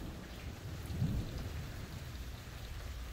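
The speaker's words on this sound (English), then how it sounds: "Watch it storm. I just missed some of that lightning." A thunderstorm outdoors: quiet, steady rain with a low thunder rumble swelling about a second in, faint and distant, with no one speaking.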